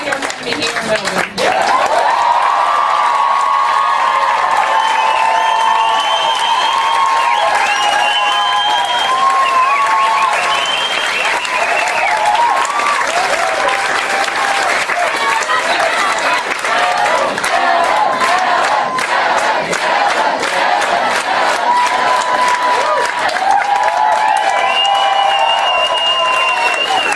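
Large crowd cheering and applauding loudly and continuously after an election victory speech in Melbourne, a dense sustained roar of clapping and shouts with voices rising throughout.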